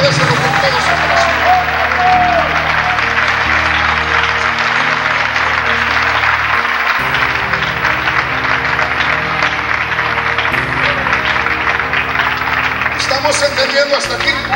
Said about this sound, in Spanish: aplauso al Señor, pero déselo con todo su corazón.